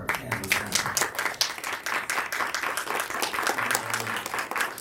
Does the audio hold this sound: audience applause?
yes